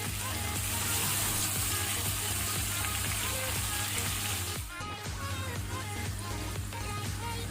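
Onion paste frying in a pan with bay leaf for a prawn curry, a steady dense sizzle with crackles running throughout, close and fairly loud, with a brief dip near the end as it is stirred.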